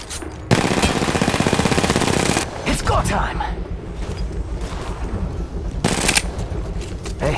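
Apex Legends Mobile gameplay with a loud sustained burst of rapid machine-gun fire for about two seconds, followed by scattered shots, mechanical clatter and a final short volley, with game voice lines over the action.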